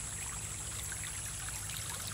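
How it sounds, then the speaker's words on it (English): A small creek flowing on a mango farm, a steady, close hiss of running water with no pauses. "So you have the small creek here."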